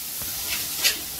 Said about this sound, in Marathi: डाळ टाकल्यानंतर छान परतून घ्यायची